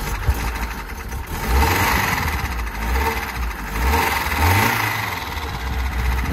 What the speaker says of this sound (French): Là, on entend le moteur du coup.